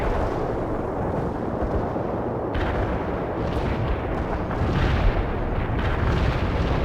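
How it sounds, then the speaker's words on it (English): Artillery strike explosions in the video game World in Conflict make a dense, continuous roar of rumbling blasts and booms that stays loud and unbroken throughout, with no voices. "Artillery strike on the way."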